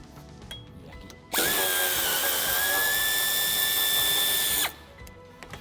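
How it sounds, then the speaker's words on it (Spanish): A power drill or screwdriver whirs steadily for about three seconds, close and loud, while a screw is removed from the center trim molding inside a Volvo V. "quitamos el tornillo que tenemos aquí"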